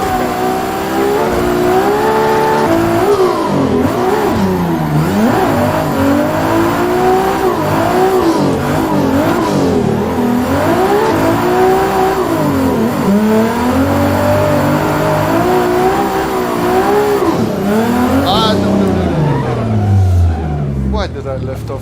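A Mazda RX7 FD3s race car from Assetto Corsa roars loudly and continuously, its pitch climbing and dropping through gear changes and lifts off the throttle, with brief tire squeal near the end and someone talking over it.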